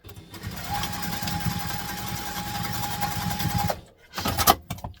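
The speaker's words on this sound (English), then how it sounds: "we're going to just stitch across the bottom" A sewing machine runs steadily, stitching across the bottom of backpack webbing, a continuous close mechanical whir for about three seconds, then stops briefly before a short burst of handling noise.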